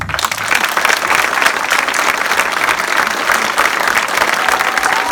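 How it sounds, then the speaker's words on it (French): A crowd applauds loudly at a political candidate list presentation, dense clapping sustained evenly throughout. "vous demande de l'accueillir dans un tonnerre d'applaudissements"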